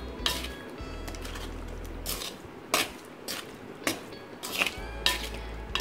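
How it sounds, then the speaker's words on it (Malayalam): Jackfruit avial being mixed with coconut oil in a pot, heard as a series of separate utensil scrapes and clinks with short pauses between them, close up over a low background hum, with no one speaking. "ഇനി ഇതെല്ലാം കൂടി ഒന്ന് മിക്സ് ചെയ്യാം."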